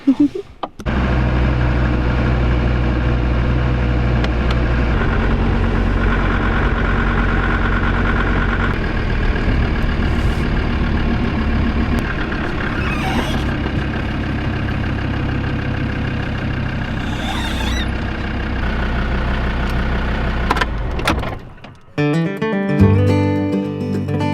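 Land Rover Defender engine running steadily for a drive in remote Quebec, a loud, close, even drone with slight shifts in pitch and a rattle near the end.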